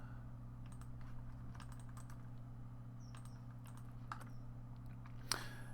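Light typing on a computer keyboard, a scattered run of soft, close key clicks over a steady low electrical hum, ending with one sharper tap.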